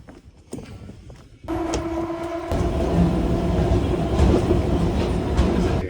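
A passenger train riding on rails, heard from inside a carriage during a commute: a steady loud rumble and rattle with a low hum that swells after a quieter start, with no talk.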